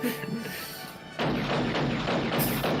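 Rapid bursts of gunfire from the film Lethal Weapon, aimed at a helicopter, break in suddenly after a quieter stretch and go on as a dense, loud, sustained clatter.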